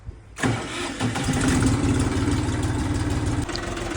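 A 24-horsepower three-cylinder four-wheel-drive Xingtai tractor diesel engine cranks and catches abruptly, then settles into a loud, rapid, chugging idle close by.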